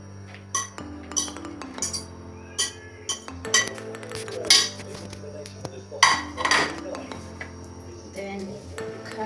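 Cabbage being mixed for homemade bhajia in a bowl, with repeated close clinks and knocks of a utensil against the bowl in an uneven rhythm, over steady background hum and occasional quiet talk.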